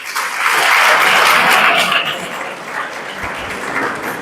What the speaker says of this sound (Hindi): एक बार जोरदार ताली अपने लिए बजा लीजिए।